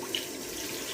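Tap water runs steadily into a cooking pan in a home kitchen, a faint, even hiss with no breaks across the moment.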